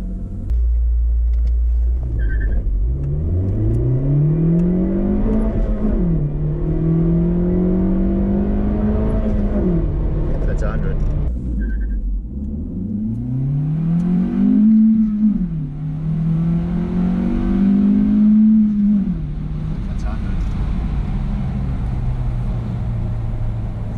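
A car accelerates hard from standstill in a 0-100 km/h run, its engine climbing in pitch through two clear gear-by-gear rising sweeps with a brief drop between, under a deep, loud rumble.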